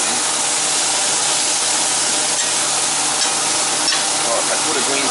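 Mushrooms, onions and sirloin steak strips fry in a pan with a loud, dense, unbroken sizzle and hiss that holds steady throughout.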